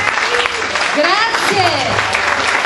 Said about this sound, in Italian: Intanto direi di fargli un bel applauso.